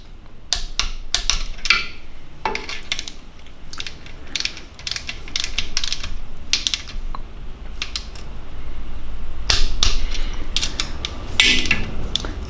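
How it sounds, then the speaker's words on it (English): Torque wrench tightening bolts on a BMW N62 V8 engine during a timing chain overhaul, rapid ratchet clicks in bursts with metallic clacks and handling noises, close and fairly loud. "So I'm going to be able to fit the torque wrench there."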